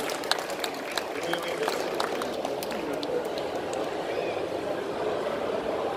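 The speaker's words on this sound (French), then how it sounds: "Et on peut encore applaudir Nicolas" Festival audience claps for Nicolas, a scattered, steady applause with individual sharp claps, mixed with a murmur of voices throughout.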